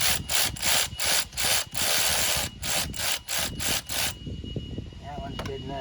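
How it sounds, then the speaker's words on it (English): Power tool driving bolts on a Ford Freestar power steering pump, a run of about ten loud, rhythmic ratcheting bursts up close, stopping abruptly and followed by quieter workshop noise. "Let's see if we can tighten these bolts down."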